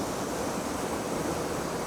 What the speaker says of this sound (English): how the water cascades down and comes round and flows out through to the left-hand side